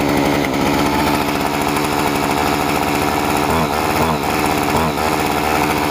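Homelite Expand-it gas engine, cold, running loud and close after starting on a second pull, a harsh steady buzzing drone with brief throttle dips near the end.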